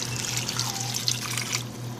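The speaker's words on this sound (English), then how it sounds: "4 to 5 cups of water" Water pours steadily from a tap or jug into a pot of butternut squash bisque for about two seconds, a soft continuous splash with a low hum underneath, no talking.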